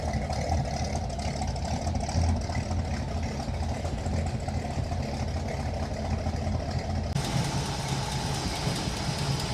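A 1955 Ford engine fitted with a Holley 4000 carburetor idles steadily with a low, even rumble and a continuous mechanical hum, close by and without pause.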